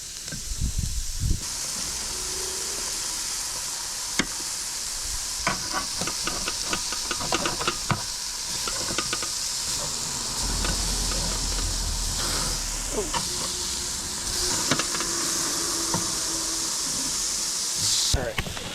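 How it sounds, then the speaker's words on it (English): Venison burgers sizzle directly on an outdoor grill, a constant hissing crackle with occasional sharp pops and clicks, heard close and steady with brief talk mixed in. "I'm throwing it right on the grill"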